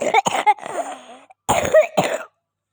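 Several harsh, close coughs come in two bursts separated by a short pause, raspy and loud with throat-clearing noises.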